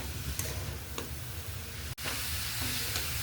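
Grated cabbage sautés in a hot pan with onion, a steady close sizzle broken by a few stirring scrapes and one brief dropout.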